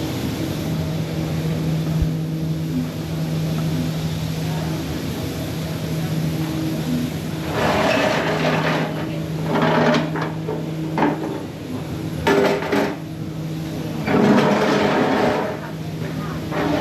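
A street cleaning vehicle trails close behind on a street in Kilkenny, its engine and brushes rumbling continuously and swelling louder in several bursts, with voices heard now and then.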